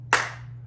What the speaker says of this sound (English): if you clap your hands, where does the sound go?